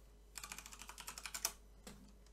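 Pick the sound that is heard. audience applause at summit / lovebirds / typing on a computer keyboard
typing on a computer keyboard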